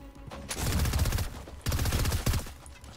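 Rapid bursts of automatic gunfire in Fortnite, two long strings of quick shots separated by a brief pause.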